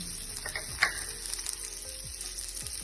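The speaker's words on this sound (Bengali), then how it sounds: "তেলটা সামান্য একটু গরম হয়ে গেলে এর মধ্যে আমরা রসুন কুচিটা দিয়ে দেব" Chopped garlic frying in hot oil for a moong dal chilla, a continuous light sizzle with a few small crackles and one brief metallic tap.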